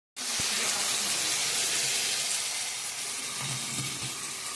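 Spice paste with tomato, onion and chilli frying in a pan, giving a loud, steady, close sizzle that holds evenly from start to finish with no talking.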